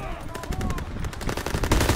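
Rapid MG42 machine gun fire in Call of Duty: WW2, a dense stream of sharp shots with a faint voice briefly underneath.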